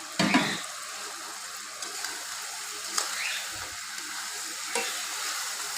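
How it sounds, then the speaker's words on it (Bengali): Lightly fried koi fish drops into an oily spice masala in a pan and is gently stirred, with a soft continuous sizzle broken by occasional scraping clicks and utensil knocks. "এখন আমি ভেজে রাখা কই মাছগুলো এতে দিয়ে দিচ্ছি"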